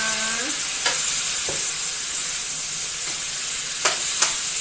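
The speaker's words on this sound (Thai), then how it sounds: "ผัดพอได้ เดี๋ยวให้แตงก็จะได้สุกเข้าๆกันนะคะ" Cucumber stir-frying with pineapple in a hot pan, giving a constant sizzling hiss with a few sharp clinks and scrapes of the spatula, heard close and without talk.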